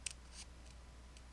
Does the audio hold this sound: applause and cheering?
no